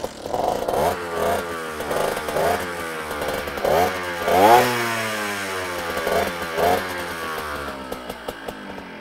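An air-cooled 50cc moped engine, fitted with a 15 carburettor, a small ported cylinder and a Falkman head, runs close by with a buzzing two-stroke note that rises and falls in repeated revs throughout.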